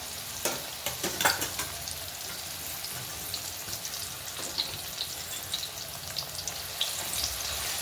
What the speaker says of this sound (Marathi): आता आपण एक केळ मी घेतलेला आहे हे केळही तळून घेऊया